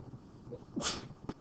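A single quiet sneeze in a classroom during a math lesson, a short sharp burst preceded by a brief intake, in a quiet room.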